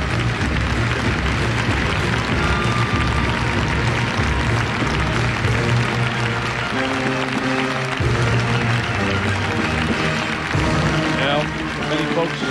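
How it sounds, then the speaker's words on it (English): Arena crowd at the 2000 US men's figure skating championships applauding a skater's effort during the short program, steady broad applause throughout with music and announcer-like voices mixed underneath. "on their feet at least applauding the effort to go through it"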